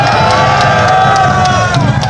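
A crowd at a Korean political party rally claps and cheers loudly, a dense continuous wash of applause with shouting voices and a sustained tone running underneath.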